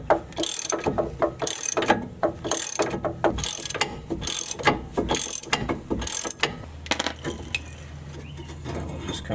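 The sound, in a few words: ratchet loosening 18mm brake caliper bracket bolts on a Camaro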